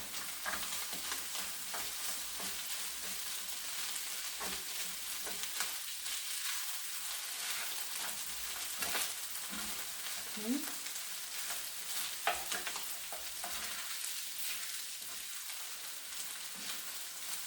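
Scallop fried rice stirred in a hot pan, a steady broadband sizzle of frying throughout with occasional scraping and clinking of the utensil, close and fairly loud, no talk.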